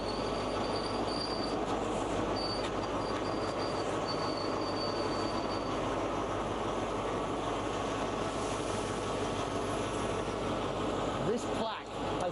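A train rumbles past on a railway line, a loud steady roar of wheels and carriages with high wheel squeal running through it, fading near the end.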